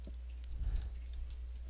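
Keys clatter on a computer keyboard as a username is typed at a login prompt, a short burst of light clicks over a low background hum, close and with no talking.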